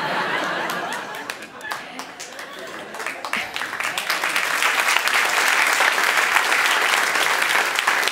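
Audience applause and scattered laughter at a French stand-up comedy show, clapping building from moderate to a sustained, fuller round with some chatter mixed in.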